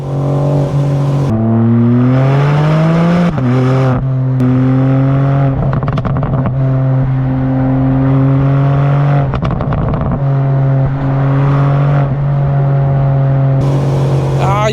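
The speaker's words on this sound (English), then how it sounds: "530 horsepower S58 engine is very nice to hear. The pops and bangs are insane." A BMW M4 Competition with the 530 horsepower S58 engine revs and shifts through gears, its exhaust loud and close with crackling pops and bangs between pulls.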